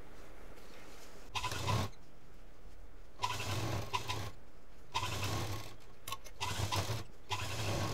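A sewing machine stitches the front of a cloth shopping bag in several separate bursts, each a steady mechanical whir of a few seconds with quiet pauses between runs.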